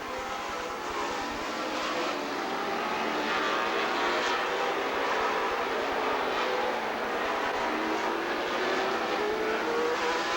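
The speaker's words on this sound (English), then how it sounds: "Hot Rod Wheeler pulling away down the back straight as the race is on for second." Race cars roar around the Rockford Speedway oval during a 1999 Joe Shear Classic race, a loud continuous engine drone that swells and recedes as cars pass, with no talk.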